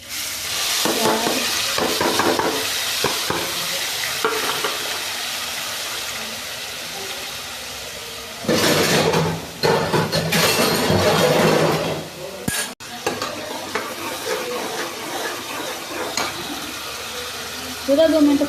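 Ground spices hit hot oil and get stirred into a curry of ridge gourd, a steady frying sizzle with clinks of a spoon against the pan and bursts of louder scraping, faint talk at times.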